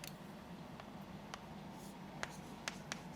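Soft, faint scratching strokes of writing on a board during a chemistry lesson on glucose structure, a few light taps and squeaks over a steady quiet room hiss with no talking.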